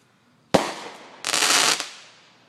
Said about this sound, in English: Here comes our nice firework.